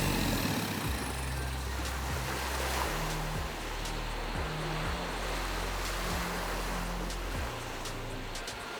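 Choppy ocean waves slosh around a boat off Koh Lipe in Thailand, a constant loud wash of water with a low rumbling motor pulsing underneath and no voices.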